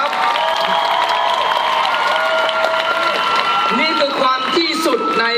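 An audience claps and cheers at the launch of a beauty pageant crown for the Miss Grand Thailand 10th anniversary. Loud crowd noise runs throughout, with sustained tonal music or amplified sound on top and some shouts near the end.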